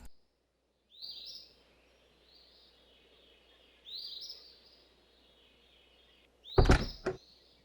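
A door opening into a ranger station in a point-and-click adventure game, a sharp thudding burst near the end, with ambient bird calls chirping in the background before it.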